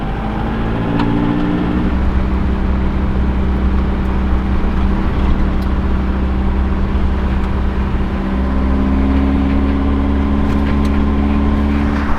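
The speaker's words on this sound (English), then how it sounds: "our alternator belt is squealing quite a bit" A 1960 VW Beetle engine runs with a squealing alternator belt, a steady high whine sitting over the loud, rumbling engine drone throughout.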